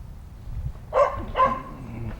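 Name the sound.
dog barking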